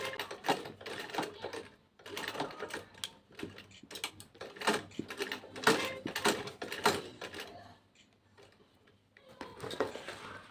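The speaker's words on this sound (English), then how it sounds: "So I'm just going to back stitch." A sewing machine back-stitches a bag flap in short rapid bursts of mechanical clatter, close and clear, pausing between runs, with a quieter spell near the end.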